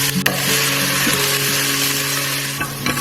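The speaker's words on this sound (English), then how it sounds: "we're going to saute these onions till they turn brown" Chopped onions sauté in hot oil in a pot for an Anglo-Indian beef and vegetable stew, giving a steady, close, fairly loud sizzle with a few faint stirring knocks and no talking.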